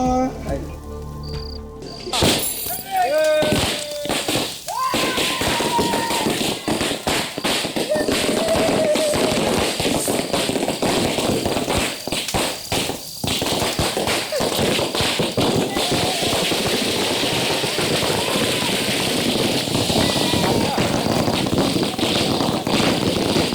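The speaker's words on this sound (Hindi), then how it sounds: "पटाखे अच्छे नहीं लगते क्या?" Firecrackers crackle and pop in dense, rapid bursts, close and loud. Voices talk and shout under the racket throughout.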